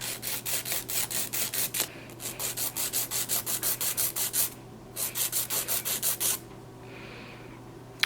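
A nail file rasps back and forth across fingernails while shortening and reshaping them for a gel manicure, in steady quick strokes in two long runs with short pauses, close and fairly quiet.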